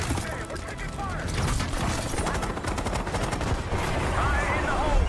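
Continuous gunfire in a Call of Duty Black Ops 6 campaign firefight, a dense mix of rapid rattling shots and mechanical clatter that stays loud and steady throughout, with faint voices underneath.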